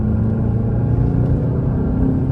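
Tuned VW GTI Rabbit, Stage 1+ with an EQT tune and Cobb Accessport, rated 315 wheel horsepower, accelerating hard on a winding road; a loud, steady, deep engine drone with a rising harmonic pitch, close and continuous, with no talking.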